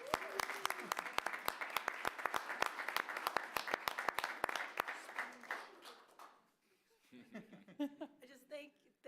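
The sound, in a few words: round of applause for the city attorney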